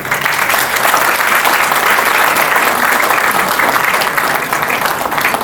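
Parents in an audience cheer and applaud students at an inter results ceremony, a loud, continuous wash of clapping that holds steady throughout.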